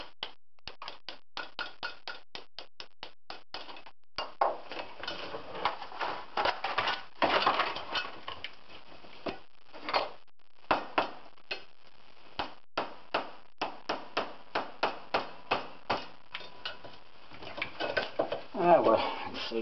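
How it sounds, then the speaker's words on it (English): A hammer lightly tapping parts of a model track into place, a long series of small sharp knocks in irregular bursts, close and fairly quiet with brief gaps between clusters. "I use the hammer and I tap it slightly."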